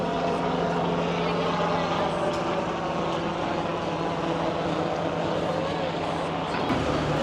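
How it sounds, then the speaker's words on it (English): A constant droning engine and rotor rumble from a tour helicopter overhead in Cairns, steady and loud throughout, with voices talking underneath. "And there's a helicopter doing another tour."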